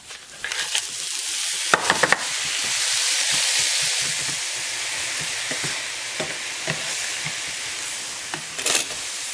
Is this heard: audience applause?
no